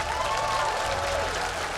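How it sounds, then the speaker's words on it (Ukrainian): Studio audience applauds juggler Anna Petrenko on a Ukrainian talent show, a steady, moderately loud spread of clapping with faint tonal background and a hint of voices. "Анна Петренко, ваші оплески."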